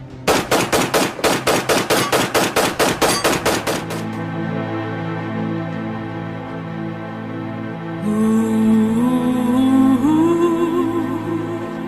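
A rapid burst of about a dozen evenly spaced gunshots rings out loud and sharp as a sound effect, then gives way to a sustained musical drone and rising tones.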